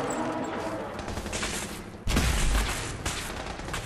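Gunfire in the Fallout 4 video game: a steady rattle of shots that swells into a louder, heavier burst partway through, with no talk over it.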